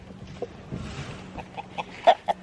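A chicken clucks nearby outdoors in short, irregular bursts that grow louder and sharper toward the end, over a quiet background hum.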